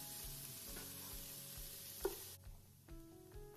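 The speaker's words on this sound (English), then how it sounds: "add some extra virgin olive oil and begin sauteing our yellow onion" Yellow onion sautés in extra virgin olive oil in a pot over medium-low heat, a faint soft sizzle over a low steady hum that drops away partway through.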